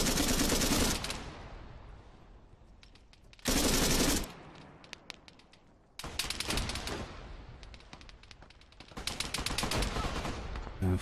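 Gunfire from the video game Arma 3 comes in loud bursts: a long rattle of automatic fire, then a short burst, then longer sustained volleys, separated by quieter gaps.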